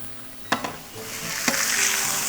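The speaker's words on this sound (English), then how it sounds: "I don't hear anyone's chicken sizzling in the pan like mine." Chicken sizzles and crackles loudly in a hot frying pan, close up, with a couple of sharp clanks of a utensil scraping or stirring.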